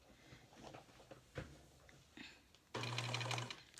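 A home sewing machine running a decorative stitch, heard as a quiet mechanical hum that starts near the end after a few soft handling clicks and thuds.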